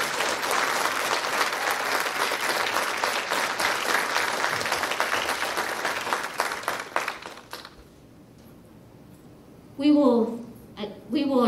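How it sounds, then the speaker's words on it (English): A room at a school district meeting applauds an award-winning teacher, with steady, full clapping for about seven seconds that thins out and stops, followed by a brief stretch of quiet and then a speaker's voice. "Can we give her a nice round of applause?"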